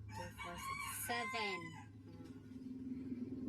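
Chickens crow and cluck nearby in a short burst, including a laying hen, with a rooster call standing out over a steady low background hum.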